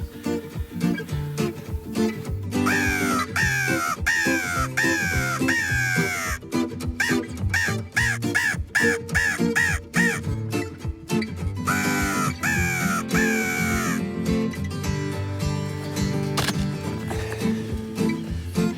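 Crows caw repeatedly during a winter crow hunt in Quebec, loud bursts of harsh calls in rapid series, some overlapping, with brief pauses between volleys and a steady low background rumble.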